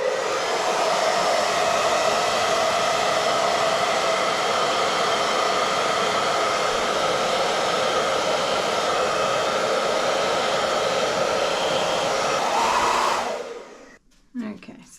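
A steady, loud rush of air from a hair dryer blows over wet paint to blend flower petals poured onto paper towel. It runs without a break for a long stretch, then cuts off abruptly near the end.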